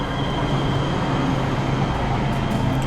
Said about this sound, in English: taking the train down to Anime Expo from the direction of downtown Long Beach Station